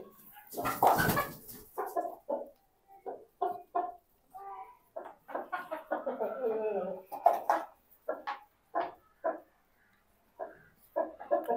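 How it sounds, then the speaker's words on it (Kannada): Backyard chickens clucking and calling while fed papaya and fruit peels outdoors, a steady run of short close clucks with one louder squawk near the start. "ಇವಾಗ ನಮ್ಮ ಕೋಳಿಗೂ ಕೂಡ ಹಾಕಿಬಿಡೋಣ. ಇದನ್ನು ನಮ್ಮ ಕೋಳಿಗೆ ಹಾಕೋಣ."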